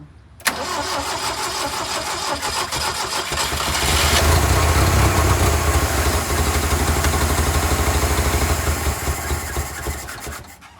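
An old Toyota forklift engine runs close by with a rough, rattling drone, rising a little in strength midway and holding steady before easing slightly near the end, with no talk.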